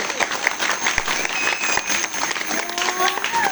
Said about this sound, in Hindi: जोरदार तालियां लगानी है तो जोरदार तालियां लगाओ